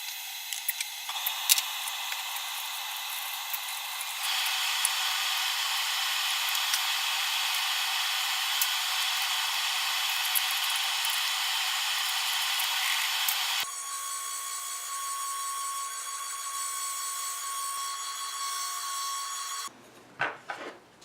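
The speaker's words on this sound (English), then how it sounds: "So I'll go ahead and mill that right now." A milling machine cuts a slot into a small metal pulley, giving a sustained high-pitched whine and hiss that shifts in tone partway through before winding down into scattered clatter at the end.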